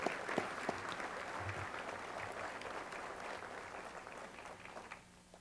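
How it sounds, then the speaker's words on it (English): Sustained applause from an audience at a 2005 sports hall of fame ceremony for the honorees, a dense steady clatter of many hands lasting several seconds before fading out. "Let's give these ladies and gentlemen a round of applause,"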